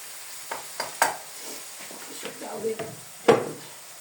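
Onion, garlic and minced meat sautéing in a pan for a spinach dish, with soft sizzling under scattered stirring clatters and a louder utensil knock near the end; a voice speaks faintly at times.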